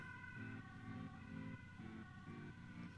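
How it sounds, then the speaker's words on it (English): Emergency vehicle sirens wail steadily as they pass by, a continuous rising and falling tone over low road rumble. "Sirens going by here."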